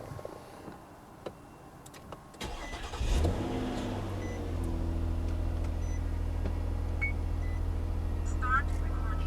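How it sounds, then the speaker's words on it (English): A car engine cranks and catches with a sudden roar, then settles into a steady idle that keeps running loud and near, heard from inside the vehicle after a few clicks. "So let's go ahead and turn on the vehicle."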